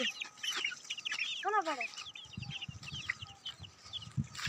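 Chickens clucking nearby in short repeated calls, with one rising squawk, over quiet rural background and faint low voices.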